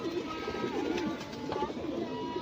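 Pigeons in a loft coo softly and repeatedly close by, their low burbling calls overlapping against a faint background hum.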